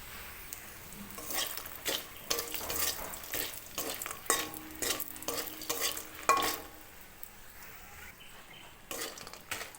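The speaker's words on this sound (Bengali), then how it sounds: "দিয়ে দিচ্ছি বড়ি বড়িগুলো একটু লাল লাল করে ভেজে নেব" Lentil dumplings (bori) frying in oil after bitter gourd and potato, a soft sizzle punctuated by repeated sharp stirring scrapes and taps in an irregular rhythm, close by and without speech.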